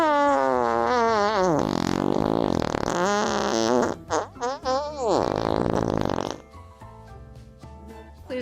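Prolonged, comically loud fart-like blasts with a wavering, pitch-bending tone run for about six seconds in bursts, then give way to quieter background sound.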